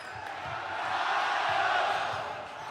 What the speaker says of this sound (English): You hear the chant in the background.